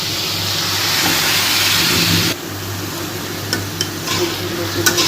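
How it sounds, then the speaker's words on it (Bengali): Bitter gourd and other vegetables hit hot oil in a pan where koi fish was fried, a loud dense sizzle that drops suddenly after a couple of seconds, followed by softer frying and a few stirring scrapes. "সবজিগুলোকে দিয়ে দিচ্ছি। এখন নেড়ে চেড়ে এটা অবশ্যই ঢেকে দিতে হবে।"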